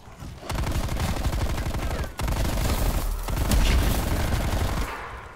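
Rapid bursts of automatic gunfire from a Call of Duty Cold War Zombies match on the Nuketown 84 map, sustained and dense with a brief break near two seconds, then continuing loud to the end.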